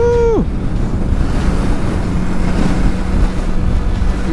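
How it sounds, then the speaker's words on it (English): Strong, loud wind roars steadily across the microphone while riding a Kawasaki Versys 300 motorcycle, with a brief falling engine tone at the start and no talking. "My God, this wind is crazy."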